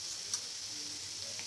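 Soft sizzle of kantola sabzi frying in a pan as spices are stirred in, a faint steady hiss with a couple of light clicks of the spoon against the pan, no voices.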